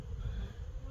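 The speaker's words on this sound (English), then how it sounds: "there's a lot of wasps about, all around the tops of the hives" Wasps buzz continuously around the tops of beehives, a dense, close insect drone with no talk over it.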